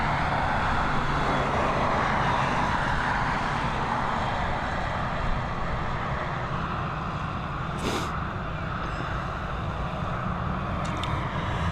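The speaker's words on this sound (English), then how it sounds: "The next of our A320s on departure, EIDW, heading over to Berlin, this Airbus A320 with that old Aer Lingus livery." An Aer Lingus Airbus A320 in old livery departs Dublin Airport, its jet engines producing a steady, moderately loud rumbling roar that holds throughout, with no talk.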